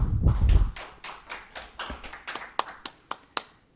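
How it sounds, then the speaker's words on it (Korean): A conference audience gives a short round of applause to welcome a speaker. A low thump opens it, then scattered individual claps thin out into a few sparse, distinct slaps. "박수로 환영해 주십시오"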